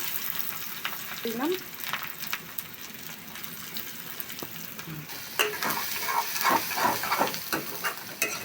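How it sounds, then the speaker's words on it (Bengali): Onions fry in a pan for singi fish dopiaza with methi, giving a soft steady sizzle broken by stirring clinks and scrapes that grow louder and busier toward the end. "এখন আমি ধীরে ধীরে ভাজা ভাজা করবো।"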